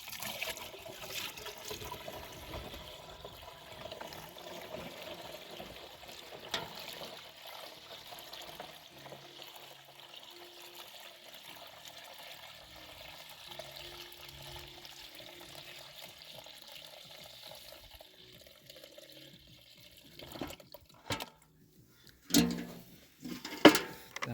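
Water is emptied from a 12-litre tank of fertiliser solution outdoors, a steady splashing pour that runs for about twenty seconds and then breaks into a few separate splashes and knocks.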